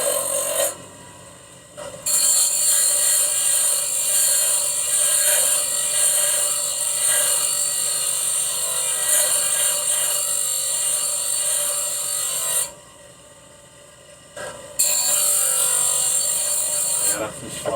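A grinder grinding an edge off a kit car suspension part, a loud, steady, high-pitched whine held for long stretches with short drops in between as the tool eases off, close by.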